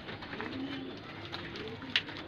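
Blue breeder pigeons with white eyes coo softly and briefly in a quiet coop, a low murmuring call with a short flutter near the end.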